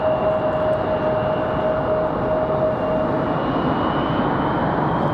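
An airliner landing at Raleigh-Durham airport fills the scene with a steady, broad engine roar and a faint high whine, heard continuously at moderate distance with no talking.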